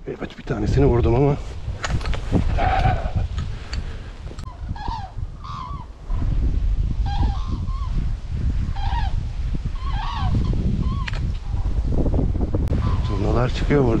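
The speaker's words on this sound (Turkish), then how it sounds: "Akın akın çıkıyor kazlar." A large flock of geese honks continuously in the open Swedish countryside during a goose hunt, calls overlapping in a loud chorus with wind buffeting the microphone and people talking.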